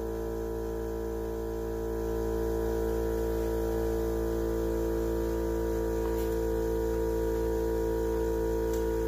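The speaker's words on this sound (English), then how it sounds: "What's really nice about this air compressor is for how strong it is, how stout it's built, it is quiet." A ViAir 300P portable air compressor running: a steady, buzzing motor hum rich in even tones, swelling slightly after the first couple of seconds and then holding constant with no talk.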